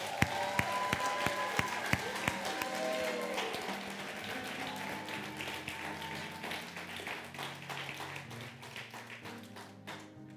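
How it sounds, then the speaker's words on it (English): An Easter Sunday church congregation at CityPoint Church in Bronzeville breaks into applause, opening with a few sharp individual claps that swell into sustained clapping with some crowd noise and a faint tonal sound beneath. "why don't you guys just give a roaring applause of celebration and thank you to them"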